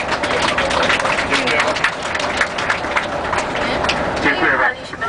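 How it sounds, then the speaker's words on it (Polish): A tour group applauds their bus driver at the end of a day trip to Clonmacnoise and the Rock of Cashel in Ireland, steady dense clapping filling the whole stretch, close and loud. "wielkie brawa dla Pana kierowcy"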